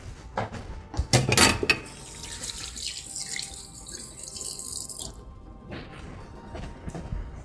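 Water runs from a kitchen tap as hands are washed, with a loud clatter of dishes or utensils near the start and a steady splashing flow that stops partway through, leaving quieter sink sounds.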